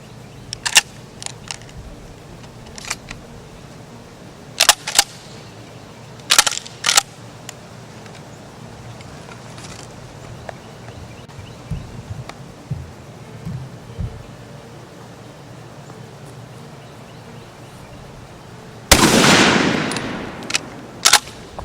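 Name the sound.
10 gauge shotgun firing at a target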